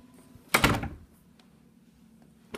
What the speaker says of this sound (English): Just close this door.